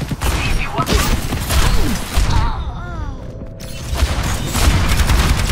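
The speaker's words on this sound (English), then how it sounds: "Rocket barrage incoming." Rocket barrage ultimate explosions in a video game, a rapid fusillade of booms and blasts heard up close, dense at the start and end with a brief lull in the middle, mixed with game effects.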